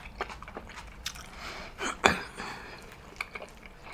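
Bites and chewing of barbecue bacon sausage at a sausage mukbang, soft wet crunches and mouth sounds close to the mic, with one louder bite near the middle.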